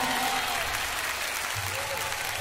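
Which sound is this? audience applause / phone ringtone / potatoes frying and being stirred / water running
audience applause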